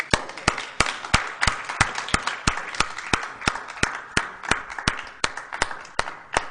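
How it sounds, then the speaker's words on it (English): Slow, evenly spaced claps ring out at a public forum for Bill Thornton, about twenty sharp strikes at a steady beat, fairly near. They sound like a small scattered crowd or a single clapper, with no talk over them. "let's give one more round of applause to Mr."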